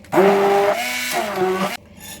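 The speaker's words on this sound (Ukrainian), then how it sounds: "Всю цю масу перебиваю блендером." Kitchen blender whirring through a cheese, sour cream, stevia and vanillin mass, a loud close motor hum that dips in pitch midway as it loads, then cuts off abruptly near the end.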